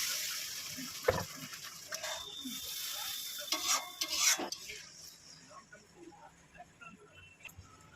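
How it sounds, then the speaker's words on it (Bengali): Water poured from the spice bowl into a kadai of frying masala for a curd rohu curry, giving a brief burst of hissing sizzle and splashing among quiet spoon stirs and metal clinks, then settling into a softer bubbling. "মশলার বাটিটা দিয়ে জল দিয়ে দেবো।"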